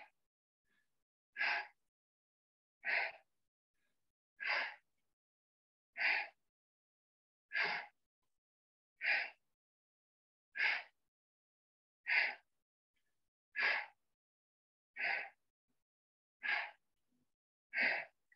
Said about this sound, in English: Then breathe faster.